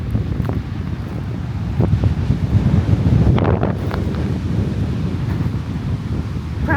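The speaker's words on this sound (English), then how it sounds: "Probably can't even hear me, it's so windy." Strong, steady wind on a beach on Amelia Island, Florida buffets the microphone with a constant low roar, and surf rumbles faintly beneath it.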